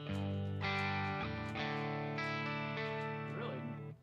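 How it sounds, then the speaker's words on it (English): An electric guitar played through a Fender Tone Master Pro modeling a blonde Deluxe Reverb amp with a touch of reverb: a few sustained, ringing chords changing in sequence, then fading out. "let's go to the blonde deluxe reverb, and it does have a little bit of reverb on it"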